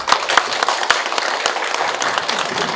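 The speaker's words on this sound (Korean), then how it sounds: "우리 환영드리고 박수로 환영하도록 하겠습니다" An audience claps in welcome for Dr. Kim, a guest speaker at a Korean lecture event, with dense, steady applause filling the room at close range and no voices on top.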